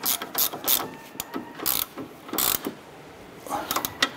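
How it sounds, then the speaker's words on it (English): A 17 mm socket wrench ratchets a lower strut clevis fork bolt on a 2008-2012 Honda Accord, giving close, crisp clicking in short uneven bursts with brief pauses between strokes. "We're gonna use our 17 millimeter socket and wrench, and we're gonna snug this bolt down for our lower strut clevis fork bolt."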